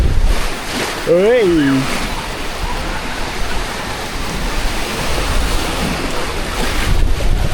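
Water rushes and churns around a raft on the Grand Canyon Rapids river ride at PortAventura World, loud and constant with wind buffeting the microphone, as a brief shout rises early on.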